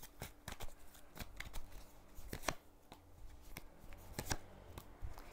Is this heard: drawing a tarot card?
yes